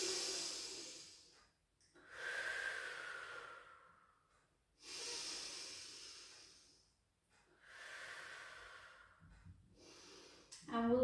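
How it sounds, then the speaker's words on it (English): Slow, deep breaths drawn in through the nose during a pilates session, three or four long airy inhalations with short pauses between them, close and fairly soft. "take a beautiful breath in through the nose."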